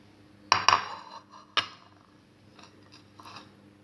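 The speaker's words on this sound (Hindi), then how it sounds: "और अब इन सब चीज़ों को इस बाउल में मैं मिक्स करती हूँ" Boiled chickpeas, potatoes and tomatoes being stirred together in a bowl for chana chaat, with a couple of sharp utensil clinks against the dish near the start, then softer scraping and tapping, close and alone.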